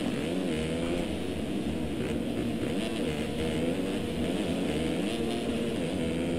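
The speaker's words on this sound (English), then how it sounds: "Let's go on board for a lap with Gavin Richards." A 250cc motocross bike recorded onboard during a lap at an amateur national race at Unadilla, its engine droning loud and continuous with wavering pitch as the rider works the throttle through the track.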